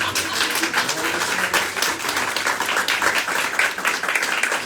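An audience claps in a steady, dense burst of applause throughout the short stretch, fairly loud and close, with no talking audible over it.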